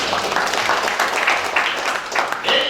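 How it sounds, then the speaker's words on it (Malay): An audience at a business preview event in Dumai, Indonesia claps in a dense, steady patter, fairly loud and sustained, with some voices mixed in. "Kita beri tepukan kepada Allah"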